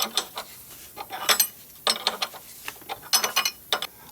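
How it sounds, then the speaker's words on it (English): Metal clicks and clinks of a 21mm wrench turning a power steering pump pulley on a 2012 Chevrolet Silverado, coming in short bursts of close ratcheting taps with brief pauses between. "I'm gonna spin this with a 21mm wrench"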